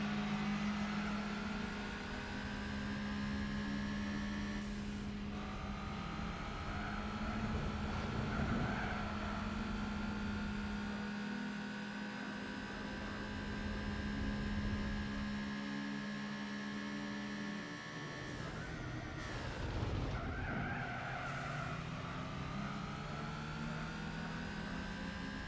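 Scion race cars in Gran Turismo 4 drone on continuously, with engine pitch climbing and dropping through shifts, a steady mid-level hum with short bursts of tire or impact noise.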